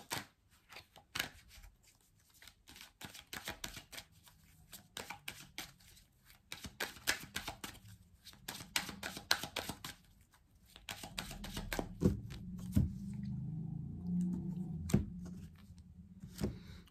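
Tarot cards are shuffled and drawn, with crisp riffling flicks and soft slaps of card against card in an irregular rhythm, close and fairly quiet, with a few louder taps toward the end and no speech.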